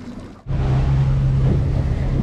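A fishing boat runs at about 22 knots, a loud steady engine drone with rushing water and wind that starts abruptly after a brief quieter moment and keeps going close up.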